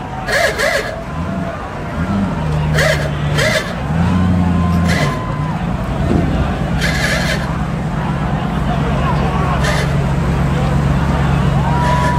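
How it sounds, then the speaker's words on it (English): A 1973 Chevy Chevelle drives past in a St. Patrick's Day parade in Belmar-Lake Como, its engine a steady low rumble under constant crowd noise and an announcer's voice, with occasional sharp bursts of other parade sounds. "1973 Chevy Chevelle"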